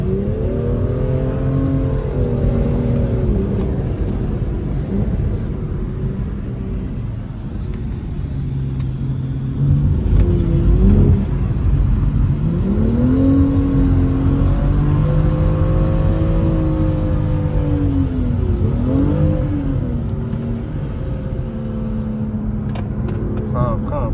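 A car engine is held at full throttle, its pitch rising and falling through gear changes with a loud, close rumble, while a voice speaks over it at times.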